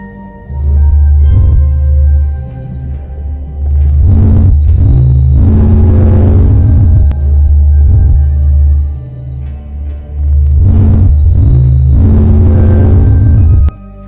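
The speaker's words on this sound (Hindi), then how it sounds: "यह रही सूर्य की आवाज।" Presented as a recording of the Sun, a loud, deep droning rumble throbs in slow swelling waves, with faint airy hiss rising over the top and no voices.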